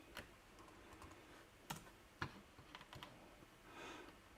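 Keys clatter on a computer keyboard hooked up to an M1 Mac Mini at a desk, irregular quiet taps and a few sharper strokes in a calm room with no talking.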